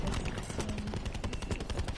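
A light machine gun fires a rapid, sustained burst of rattling shots in a Black Ops 4 multiplayer match, loud and close, layered over dense background battle noise.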